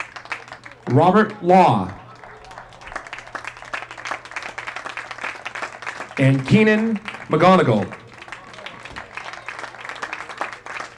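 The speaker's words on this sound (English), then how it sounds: "a round of applause for the Concord seniors" Crowd applause at a high school baseball game honoring the Concord seniors, a steady patter of clapping running under a public-address announcer reading out names.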